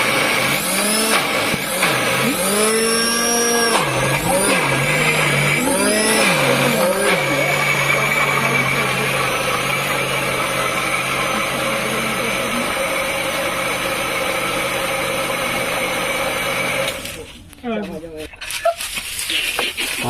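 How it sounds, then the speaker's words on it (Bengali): Electric mixer blending a mango milkshake with the lid on, the motor holding a loud steady whine for about ten seconds before cutting out abruptly. A voice is heard near the start. "আর মিক্সার চালিয়ে দেবো।"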